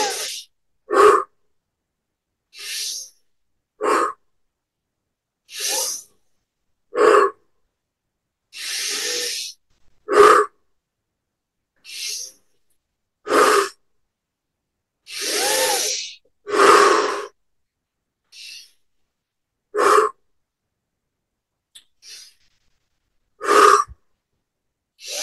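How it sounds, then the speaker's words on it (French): A person takes a series of forceful, deep breaths during a breathing exercise, each breath a separate loud burst separated by silence, repeated around a dozen times at an irregular rhythm, close and alone. "Et on prend des respirations de plus en plus profondes pour les 10 prochaines."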